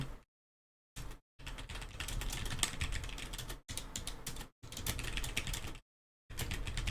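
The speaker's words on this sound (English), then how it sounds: "I'm just typing away, you know. A little typey type." Typing on a computer keyboard during a League of Legends playoff match, rapid continuous clicking in long bursts separated by brief silent pauses, close and fairly quiet, with no voices.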